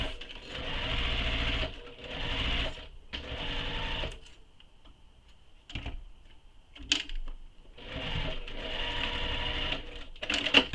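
A sewing machine backstitches across the seam of a tote bag: bursts of rapid mechanical stitching that start, stop and reverse, close and steady, with quiet pauses between runs.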